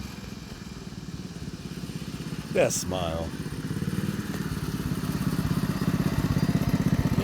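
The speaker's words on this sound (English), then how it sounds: "She loves the mini bike." A mini bike rides down a road with a steady, buzzing small-engine drone that holds through the whole stretch and grows slightly louder toward the end, while a person speaks briefly over it.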